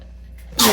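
A single sharp, loud sneeze bursts out near the end after a moment of quiet room tone.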